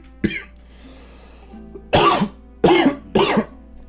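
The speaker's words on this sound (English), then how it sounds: "I went on like a major freaking coughing tantrum for some reason" A person has a coughing fit close up: a single harsh cough, a pause with some breathing, then three loud hacking coughs in quick succession.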